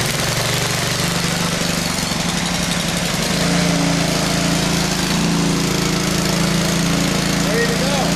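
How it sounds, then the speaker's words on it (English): A gas pressure washer's small engine catches after a choked start and settles into a loud, steady, chugging drone close by, with people talking over it. "You gonna start her? start it, put the choke on, put it on."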